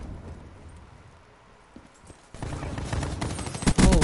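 Rapid-fire gunfire from a modded controller in Prizefighters, a quick run of sharp repeated shots that builds in loudness toward the end, close and without speech.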